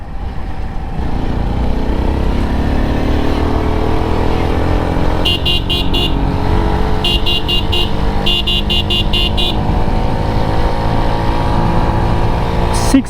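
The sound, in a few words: Runner Kite Plus motorcycle riding in third gear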